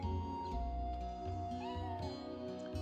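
A cat meows in the Chrono Cross video game, a clear drawn-out cry over a steady bed of game music with sustained tones, the meow standing out near the middle.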